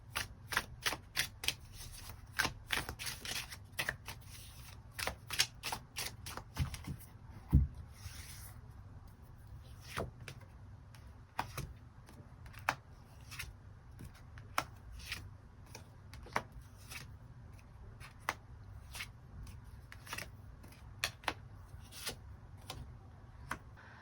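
Tarot cards are shuffled and drawn, a long run of crisp, rapid card flicks and riffles coming in bursts with short pauses, close and quiet, with no talk.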